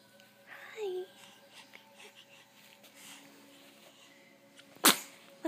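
A single sharp sneeze bursts out near the end, loud and close, after quiet murmuring and a child's babble.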